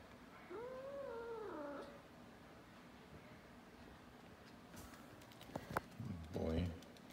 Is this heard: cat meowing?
yes